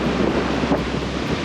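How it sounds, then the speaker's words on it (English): Waves lap gently on the shore of a tropical island beach with clear water, under steady wind buffeting the microphone, a continuous close wash of surf with no distinct breaks. "We're just enjoying the waves lap upon us."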